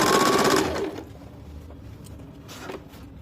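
A sewing machine stitching elastic onto a salwar, running in a fast loud whir that stops abruptly, followed by faint handling clicks.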